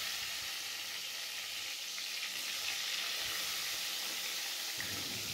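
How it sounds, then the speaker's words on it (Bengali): Eggplant slices fry in hot oil with a soft, steady sizzle, fairly quiet and continuous with no voices. "খিচুড়ির সাথে বেগুন ভাজা না হলে কিন্তু একেবারেই জমবে না তাই বেগুন ভাজা হয়ে যায়"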